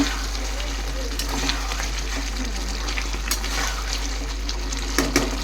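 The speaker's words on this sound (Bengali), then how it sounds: "আলুগুলো দিয়ে একটুখানি কষিয়ে নেব" Potatoes sautéing with mutton in a pan for a Bengali mutton curry, a steady close sizzle and frying hiss with occasional stirring scrapes throughout.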